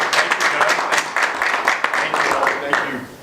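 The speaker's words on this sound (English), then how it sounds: "please ask you to give a Texas round of applause to the 2015 Texan of the Year" Audience applauding the 2015 Texan of the Year, Speaker of the House Joe Straus, with a dense, steady patter of clapping from many hands that holds throughout, mixed with a voice.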